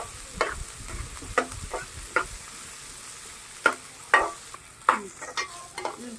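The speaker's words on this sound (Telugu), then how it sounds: "ఉల్లిపాయలు, పచ్చిమిరపకాయలు, అల్లం, ఎల్లుల్లిపాయలు ఇవన్నీ కూడా బాగా వేపుకోవాలి." Onions, green chilies, ginger and garlic frying in a pan, with scattered sharp scraping and stirring knocks over a low sizzle, spaced irregularly and fairly close.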